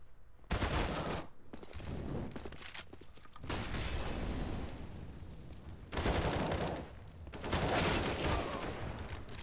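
Automatic gunfire in a Counter-Strike match rattles out in several loud, sustained bursts, with short pauses between sprays and no voices.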